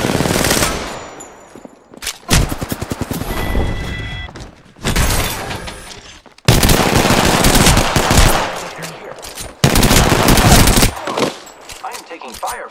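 Heavy automatic gunfire in the video game Apex Legends, with several loud sustained bursts of rapid shots separated by short pauses, and thuds and impacts mixed in.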